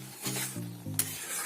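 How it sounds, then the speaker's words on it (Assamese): Boiled chickpea dal, whole chickpeas and rajma are stirred in a pan, making brief scraping strokes over a soft sizzle, close and fairly quiet. "এতিয়া মই ইয়াতে এড কৰিম যিখিনি বইল কৰি ৰাখিছিলোঁ, বুটৰ দালি, বুট, ৰাজমাহ। দি মই লৰাই আছোঁ।"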